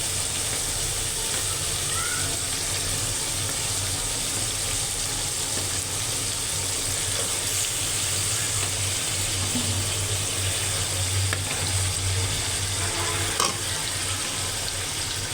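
Meat and potatoes added to a frying spice paste, giving a steady close sizzle and crackle in the pan that runs continuously with faint stirring.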